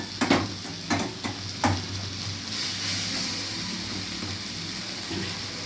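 A hair-care mixture frying in a pan, with a steady sizzle throughout and a few stirring scrapes and clinks in the first two seconds, up close.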